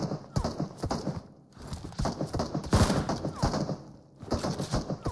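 Rapid bursts of gunfire from a shooter in PUBG Mobile, fired from a main building, crackle in quick repeated volleys at close to mid range, with a short lull before the shots resume.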